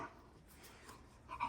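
A mini bull terrier puppy whimpers and yips softly, with faint low sounds at first and a brief louder whine near the end, heard close by with no talking.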